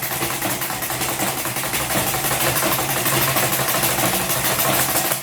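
A sewing machine stitches Ankara fabric with a steady, dense motor whir that runs without a break at close range. No one speaks.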